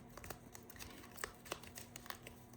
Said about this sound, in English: I'm just going to shuffle them up.